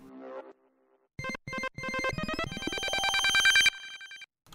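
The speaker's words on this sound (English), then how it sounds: "Let's check out ringing lead." A ringing lead preset on the TAL NoiseMaker software synth plays bright, bell-like tones. A few short stabbed notes are followed by a sustained, rising tone that swells louder and then cuts off abruptly.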